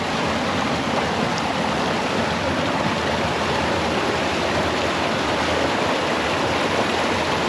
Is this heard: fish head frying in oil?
no